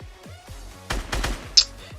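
Gunfire in a Fortnite-style solo match as a player builds up and keeps shooting down at an opponent: a series of sharp synthetic gun bursts, the loudest a crisp crack near the end, fairly close with no talk.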